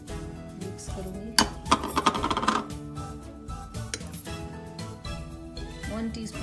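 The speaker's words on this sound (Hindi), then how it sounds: "फिर इसको अच्छे से मिक्स करूंगी।" A spoon clinks and scrapes against a bowl while full cream and soft cheese are stirred together for a digestive biscuit dessert, a burst of rapid metallic clatter near the middle, with someone talking throughout.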